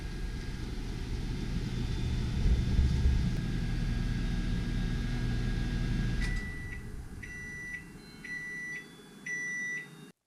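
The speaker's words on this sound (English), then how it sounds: "the microwave is making a racket" A steady, loud mechanical hum from a noisy microwave oven drones for several seconds, then cuts off and a series of short electronic beeps follows.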